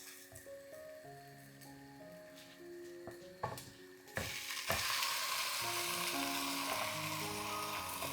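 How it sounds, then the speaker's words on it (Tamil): Marinated chicken tips into a hot pan of frying onion, ginger and garlic for a pepper chicken, and a loud, steady sizzle swells up and holds, with stirring and scraping on top and no talking. "நம்ம மேரினேட் பண்ணி வச்சுருக்கோம்ல இந்த சிக்கனு, அதை அப்படியே உள்ள ஆட் பண்ணி மிக்ஸ் பண்ணுங்க."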